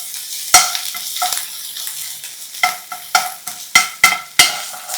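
Green chili and ginger paste hitting hot oil and being stirred, a close, loud crackling sizzle broken by repeated sharp scrapes and taps of a spoon in the pan.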